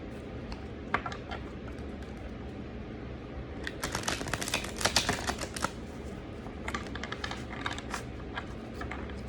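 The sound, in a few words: tarot cards being shuffled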